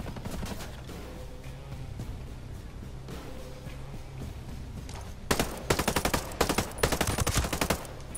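Automatic gunfire in the Ghost Recon Breakpoint game: a steady low battle rumble, then loud, close bursts of rapid shots in the final three seconds.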